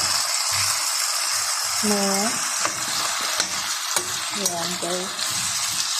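Vegetables with spices and buharat seasoning are stirred in a frying pan, giving a steady close sizzle and scraping throughout, with a short spoken phrase over the cooking.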